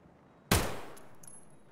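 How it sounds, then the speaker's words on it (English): A single sharp, loud gunshot from Escape from Tarkov cracks out suddenly after near silence and trails off in a decaying echo, followed by faint clinking. "I don't know what you're shooting at."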